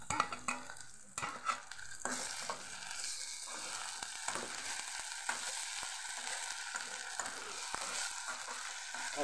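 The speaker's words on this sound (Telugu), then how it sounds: "అల్లం వెల్లుల్లిపాయ పేస్ట్ చేస్తున్నా" Ginger garlic paste fries with onions in a pan, a soft continuous sizzle with spatula stirring and scraping knocks, close but fairly quiet, while cooking a prawn and fish curry.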